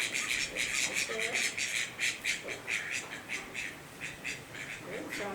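Ducks squawk and quack repeatedly and fairly close during a dog herding session on a field, the calls loud and steady throughout, with a handler's voice talking now and then underneath.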